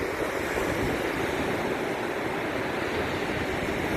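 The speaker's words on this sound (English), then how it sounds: "and that you're listening to these waves" Steady roaring surf washes over a broad hiss, a constant rush of ocean waves with some wind, loud and close, with no voices.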